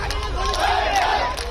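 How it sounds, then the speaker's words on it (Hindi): An angry crowd gathered outside a hospital in Udaipur shouts and clamors together, a dense, agitated roar of voices with rising yells. "जिस पर भीड़ उग्र हो गई।"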